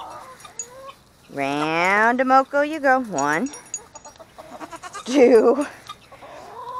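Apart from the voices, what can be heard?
chickens clucking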